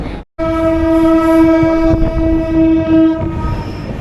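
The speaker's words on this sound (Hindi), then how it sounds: "हमारी ट्रेन ने भी अब पकड़ ली स्पीड धीरे धीरे।" An LHB Garib Rath express with 2022 coaches, running from Anand Vihar to Bhagalpur, sounds a loud, long, steady horn close by as it gathers speed, with the rumble of rolling coaches underneath.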